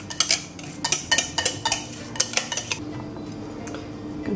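A spoon clinks and scrapes against a dish while spreading a mixed cream layer over a frozen no-bake dessert, a close run of sharp taps and knocks for about three seconds, then quieter smoothing strokes.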